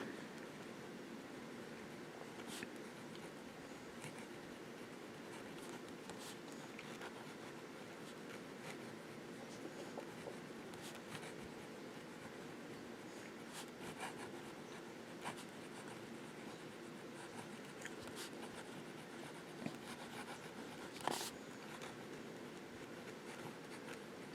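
Yiren Cross Grip fountain pen nib dragged in reverse across paper, a steady faint scratchy rasp running throughout with small clicks and one brief louder tap near the end.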